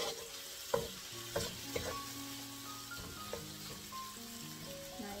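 Shrimp fry and sizzle in a pan for a breakfast dish, with soft stirring clinks and scrapes over a steady low sizzle, quiet and close, with no talking.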